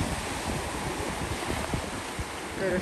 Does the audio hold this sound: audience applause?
no